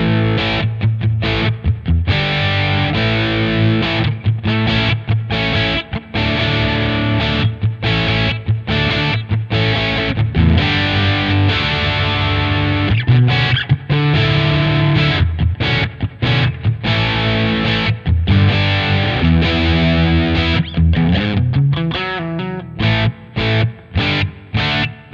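An electric guitar played through the Plexi Distortion effect of a Sonicake Matribox 2 multi-effects unit, modeled on a classic Marshall amp, loud crunchy riffing and chords in a steady rhythm, ending in choppy staccato hits.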